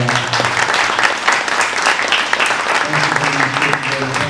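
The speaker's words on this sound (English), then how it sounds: "how about another big round of applause for Carmen?" An audience at a political rally in Ankeny, Iowa applauds steadily throughout, a dense wash of clapping with a voice faintly audible underneath.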